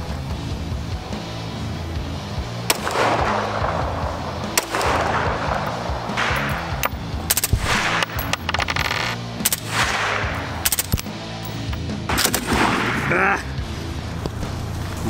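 Gunshots from firearms at a shooting range, loud single shots fired at irregular intervals with a reverberant crack, while people talk between and over them.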